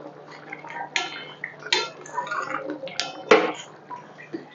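A ladle scrapes and clinks against a pot and plate while cooked chole is served, giving several soft wet scoops and metal taps spaced irregularly at close range.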